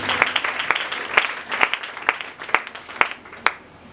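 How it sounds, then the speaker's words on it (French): A church congregation claps together in steady rhythm, each sharp clap landing about half a second apart, loud and close, with no talking over it. "Acclamons pour le Seigneur Jésus-Christ."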